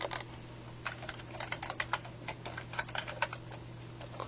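Computer keyboard being typed on while entering a project name, a quick irregular run of close, crisp key clicks over a low steady electrical hum, with no speech.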